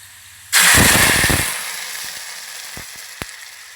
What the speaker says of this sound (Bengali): আমি এখন ডালটা বাগার দিয়ে দিব